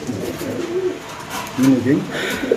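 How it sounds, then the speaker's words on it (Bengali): King pigeons coo close by in soft, throaty rolling calls, with a person's voice faintly mixed in. "এদিকে আছে কিং কবুতর"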